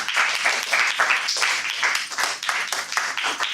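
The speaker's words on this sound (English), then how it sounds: "Good clapping, good clapping." A small audience claps at a Toastmasters meeting, steady close applause with distinct hand claps throughout and no talk on top.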